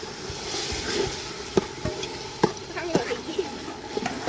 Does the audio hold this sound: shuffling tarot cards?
no